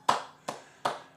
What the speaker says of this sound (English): I want to give myself a round of applause.